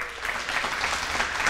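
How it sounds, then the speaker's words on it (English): Audience applause fills the whole stretch, a steady wash of clapping from a live crowd with no voices over it. "thank you for applauding my losing fat"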